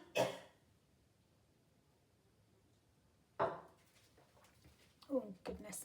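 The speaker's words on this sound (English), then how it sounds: "Oh, I'm going to cough." Two or three short, harsh coughs break out close by, spaced apart, with a rough throat-clearing quality amid quiet background.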